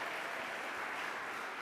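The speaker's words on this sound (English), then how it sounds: "Give them a round of applause." Audience applause after a live music performance at a school music day, a dense, even patter of clapping from a crowd that holds steady throughout.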